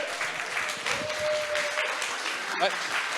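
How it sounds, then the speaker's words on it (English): Audience applause at the closing session of a tech conference, a dense steady patter of many hands clapping throughout with voices and a brief whistle-like tone mixed in. "Can you guys please give a gigantic round of applause for Gabriel for the past 5 years of work"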